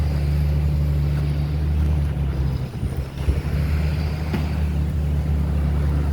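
An 848H logging machine works hard outdoors on a windy day, its engine a steady low drone with a strong hum throughout, briefly rising in roughness near the middle, with wind noise mixed in.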